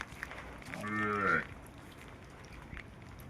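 A cow tethered in a farm shed on a rainy day lets out a single drawn-out moo, fairly close, rising and then cutting off over a quiet background of faint rain.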